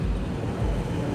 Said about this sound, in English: Corey's car sounds serious as hell